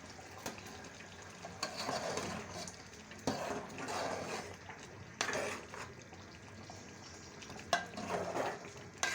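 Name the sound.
chicken achar gosht being fried in ghee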